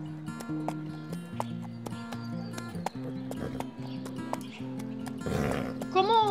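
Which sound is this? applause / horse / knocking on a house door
horse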